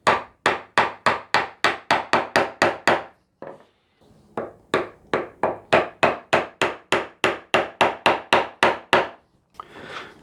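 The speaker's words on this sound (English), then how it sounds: "I can actually locate my chisel right into that wall that we cut initially and start to take it down." A steel chisel is struck repeatedly with a mallet while cutting a wooden mortise, sharp close knocks in a steady fast rhythm, a brief pause, then another long run of even blows.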